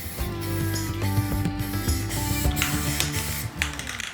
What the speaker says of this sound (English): spray painted this with no primer and the paint's sticking just fine.